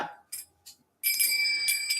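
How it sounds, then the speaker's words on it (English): Newly acquired bells struck a few times, short bright chimes, then a sustained ringing tone that lingers, close and moderately loud. "I got some beautiful new bells."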